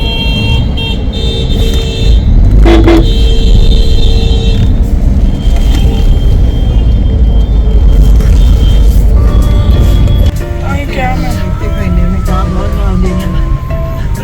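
Busy road traffic outside the Golden Temple with a constant loud engine rumble and several car horns honking, some long and some short, near and far.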